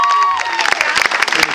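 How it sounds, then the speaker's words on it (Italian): Audience at a dance school show applauding, a dense burst of clapping that builds quickly and fills the space, with a voice trailing off at the start. "quindi fatevi un applauso anche a voi"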